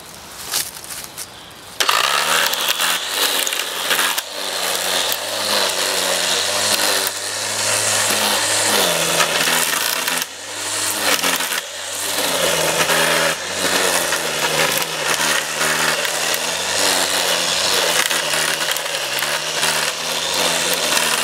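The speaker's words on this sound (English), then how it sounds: "So we'll trim the weeds and leave it at that." A power trimmer whines steadily and loudly as it cuts weeds on a grave in a churchyard, its engine pitch shifting slightly as the cutting load changes and then running unbroken throughout.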